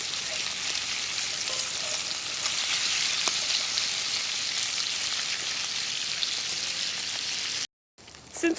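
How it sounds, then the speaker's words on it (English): Bacon sizzles and crackles steadily in a pan over an open fire, a dense, loud hiss with scattered pops, broken by a brief dropout near the end. "Don't you just love the sound of bacon sizzling?"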